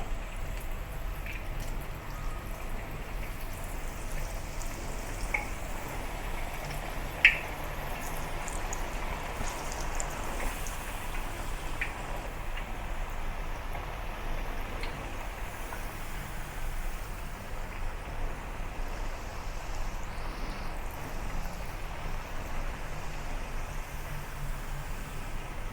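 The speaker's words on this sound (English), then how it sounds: "put the yam ring on a ladle with some hole like a strainer and slowly deep fry it" A yam ring made of taro slowly deep fries in oil at medium heat while sitting on a perforated ladle, giving a faint, even sizzle with scattered tiny pops and no talking.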